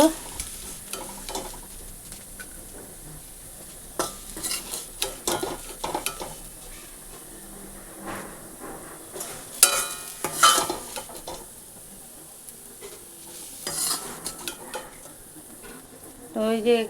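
Fried potatoes in a wok on the stove, sizzling steadily while a spatula scrapes and stirs in repeated bursts, close and clear with no talking.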